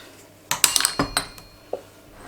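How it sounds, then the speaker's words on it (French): A measuring cup is set into the lid of a cooking machine with a quick cluster of hard plastic and glassy clicks and clinks, then one last softer knock, all close by in a quiet room. "Insérez le verre doseur dans le couvercle."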